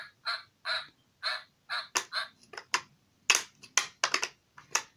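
A series of short, squeaky toy quacks in quick succession, some in pairs, followed by sharper rapid clicks, close and fairly loud.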